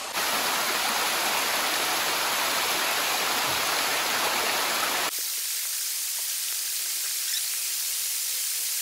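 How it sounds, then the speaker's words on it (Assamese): Rain pouring steadily at a campsite, a loud dense hiss for about five seconds, then it continues as a quieter, more distant patter with no talk. "বৰষুণ এতিয়ালৈকে দি আছে"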